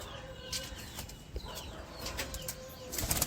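Wings of a Madrasi (Andhra) pigeon flap in a few quick fluttering bursts, close by, over a steady background murmur.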